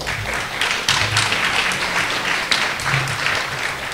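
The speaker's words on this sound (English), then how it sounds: "so you can always get an applause when you come to a library and say you should have more libraries" A crowd at a Black Lives Matter gathering in a library breaks into applause, dense steady clapping that holds at even loudness for the full stretch.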